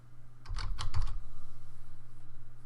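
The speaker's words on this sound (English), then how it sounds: "when I go back to YouTube and I type in real estate" A short burst of typing on a computer keyboard, a quick run of key clicks entering a search, close and clear, then a steady hum alone.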